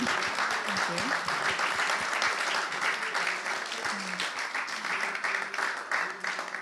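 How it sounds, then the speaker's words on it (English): Steady, dense audience applause fills the whole stretch, loud and continuous, with a voice faintly heard through it. "let's give a round of applause to everyone"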